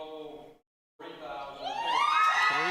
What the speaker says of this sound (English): And you hear the crowd in the background. Cheering.